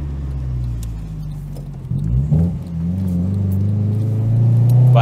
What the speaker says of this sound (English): if I give it full throttle, it starts misfiring.